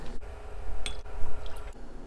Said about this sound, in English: Go in with the soy sauce,